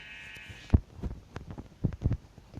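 A Minecraft sheep bleats in a few short, separate calls over a quiet game background, each bleat brief and fairly clear; no talking.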